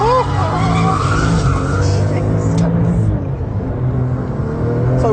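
A Porsche 997 GT2 RS on a race track squeals its tires as it loses and regains grip, with engine rumble running underneath and someone speaking over the loud, sustained skid.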